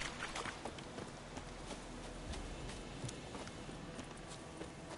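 Faint clip-clop of horse hooves at a trot in The Witcher 3: Wild Hunt, quiet and steady under a low background hum.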